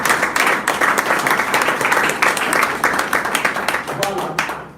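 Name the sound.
seminar audience applause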